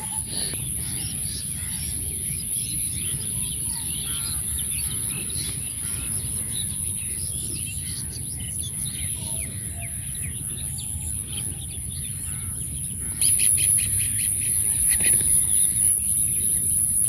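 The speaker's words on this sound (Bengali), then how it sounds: "ওই যে মা ডাক নইছে" A mother bird calls near her nest in a tree outdoors, her cries blending into a steady chorus of birds and insects with a thin high whine running throughout, growing slightly louder toward the end.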